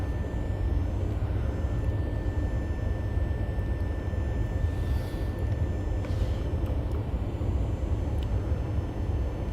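Boeing 737 airliner descending toward O'Hare in the x737 flight simulator, a steady loud engine and wind roar that continues without a break.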